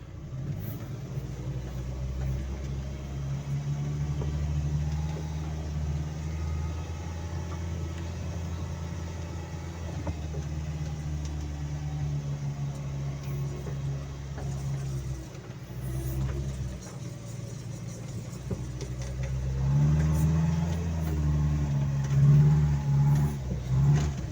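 Veter all-terrain vehicle driving over snow, a deep steady engine rumble heard from on board that rises in effort near the end, with no talk over it.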